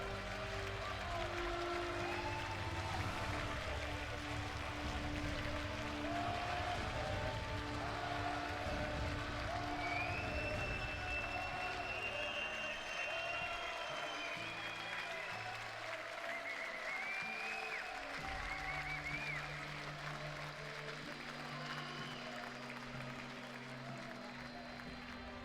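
A live crowd at an Age of Empires 2 semifinal of the Red Bull Wololo tournament applauds and cheers in a sustained, dense roar of clapping and shouts, with whistles and voices rising over it throughout.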